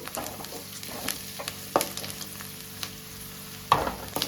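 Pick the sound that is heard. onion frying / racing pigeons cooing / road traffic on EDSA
onion frying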